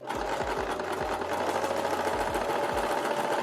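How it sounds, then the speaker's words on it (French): A sewing machine stitches a tuck in fabric, running fast and steady with a rapid mechanical chatter throughout, close and fairly loud, with no talking. "Et là, je vais coudre une nervure ici"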